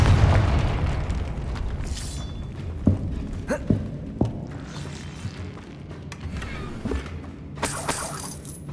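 A Confringo fire spell explodes in Hogwarts Legacy, with several sharp booming blasts and shattering hits spread across the stretch over rumbling game ambience.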